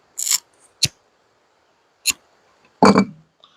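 Scissors cutting hammock strap webbing, heard as four crisp, close snips spaced irregularly with quiet gaps between them.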